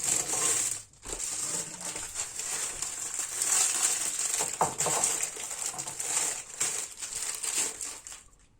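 Ladyfinger biscuits are tipped from crinkly plastic packets into a bowl for a birthday cream cake, giving a steady crackling, crumpling rustle with a brief pause near the start and a soft tumble of biscuits, close and continuous.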